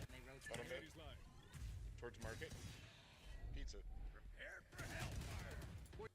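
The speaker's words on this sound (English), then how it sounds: "let me hear how fast you shoot the sheriff really quick" Rapid Sheriff pistol shots in Valorant crack out in quick bursts, mixed with game effects and talk.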